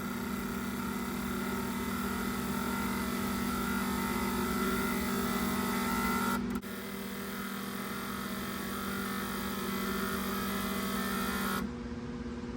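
A fuel injector flow test machine for Buick Grand National injectors runs its acceleration cycles from idle toward 7,500 RPM, giving a steady electric hum and drone that briefly drops and resumes, no voices.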